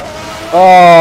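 Engine of a 1991 McLaren MP4/6 Formula One car in a racing game at Imola, a steady whine that jumps into a louder, higher harmonic drone partway through, close and constant.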